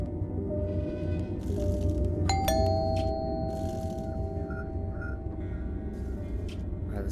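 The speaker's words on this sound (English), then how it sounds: "Now he's ringing the doorbell." A two-tone electronic doorbell chime rings out twice in quick succession over a low droning background hum, with faint scattered game-like sounds afterward, in the video game Fears to Fathom: Home Alone.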